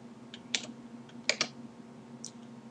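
Computer keyboard and mouse clicks while working in CAD software, a handful of light, close taps in small clusters over a quiet room hum.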